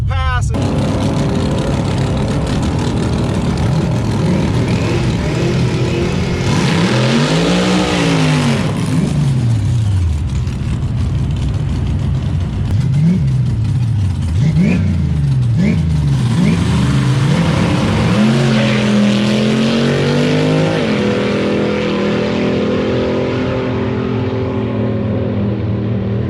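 A 1988 Ford Mustang with a stock 302 V8 and Vortech A-Trim supercharger makes a drag strip pass, its loud engine roaring through several rising sweeps and gear changes, with some talk mixed in.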